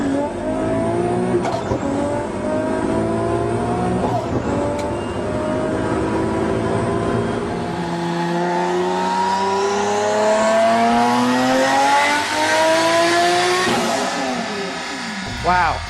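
A tuned Novitec Rosso Ferrari 599 GTB engine revs hard, its loud rising and falling howl sweeping up through the gears in several surging pulls, close and dominant throughout.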